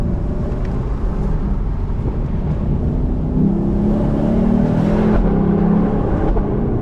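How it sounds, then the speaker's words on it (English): A Lexus LC 500 convertible's V8 cruises with a steady, close engine drone and exhaust note, with a slight lift partway through as it shifts; no one speaks. "Even when you're just cruising, you get that little exhaust pop between the shifts."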